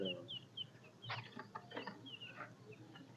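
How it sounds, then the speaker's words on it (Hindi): FFG hens cluck and call in a farmyard as a vendor collects them, several chickens giving short repeated squawks and clucks close by, no talk. "फेरी वाले भैया यहाँ पे आके अभी मुर्गी को लेके जा रहे हैं"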